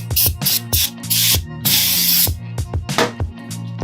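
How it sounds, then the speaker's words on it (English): Repeated hissing bursts of brake cleaner spray, some short and one longer, during a clutch installation on a Nissan 370Z, with a low mechanical hum running underneath throughout. "You're going to want to use some brake cleaner,"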